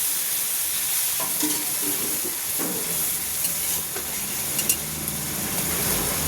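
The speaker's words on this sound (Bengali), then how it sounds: "রসুনের পেস্ট তো ভালো করে একটু কষাতে হবে।" Garlic paste frying and being stirred in a pan, a steady close sizzle and hiss with occasional soft scrapes of the spoon throughout.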